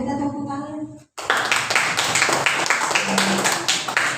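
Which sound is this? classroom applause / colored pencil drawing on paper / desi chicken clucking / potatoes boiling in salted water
classroom applause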